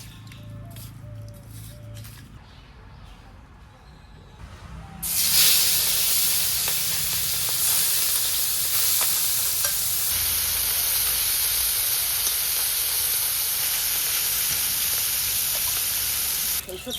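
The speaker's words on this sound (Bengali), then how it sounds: "এই মাছগুলো এখন ভেজে নেব" Small local fish rubbed with salt and turmeric frying in hot oil: a quiet start, then a loud, steady, close hiss of sizzling that runs unbroken to the end.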